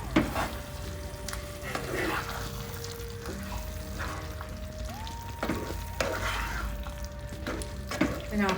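Curd is stirred into a raw banana curry in a pan, a soft, bubbling sizzle with intermittent spoon scrapes, close and moderate in level, over background music.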